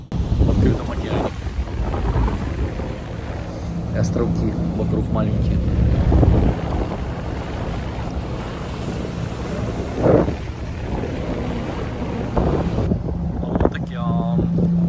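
A boat travels across the open ocean near the Maldives, with steady wind buffeting the microphone and a constant engine and water rush throughout, while a person talks over it.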